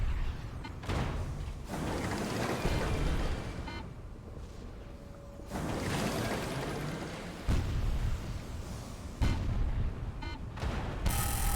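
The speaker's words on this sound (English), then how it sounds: "Our cannon actually shoves us backwards, which is kind of cool." Several heavy booming cannon blasts go off in the busy soundscape of the video game Sunless Skies, with thuds, rumbling and bursts of noise between them.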